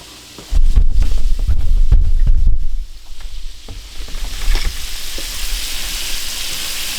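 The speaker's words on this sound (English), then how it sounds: "Just frying up some crawfish." Crawfish, already cooked, being reheated and fried in a pan in a home kitchen, giving a loud steady sizzle that drops back to a softer, continuous crackle partway through, with no talking.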